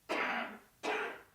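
A person coughing twice, two harsh, breathy bursts about three-quarters of a second apart, close and alone with no talk.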